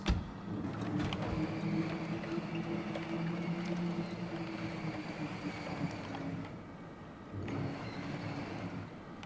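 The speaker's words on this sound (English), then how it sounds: "This engine, by the way, doesn't sound too good. I think it's on its last legs." A vehicle engine in the video game Caravan SandWitch runs rough and strained, a steady droning rumble with a wavering tone that holds for several seconds and dips briefly before swelling again.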